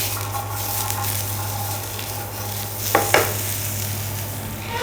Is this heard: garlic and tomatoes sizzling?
yes